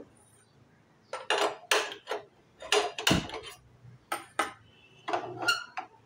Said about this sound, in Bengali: কড়াতে আমগুলো দিয়ে দেবো। গ্যাসটা জ্বালিয়ে নেব।